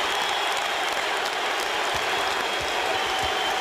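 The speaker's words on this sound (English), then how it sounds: "the crowd is chanting MVP" Basketball arena crowd roaring continuously during a game, a dense wash of fans' noise with faint rhythmic chanting of MVP, steady and loud throughout.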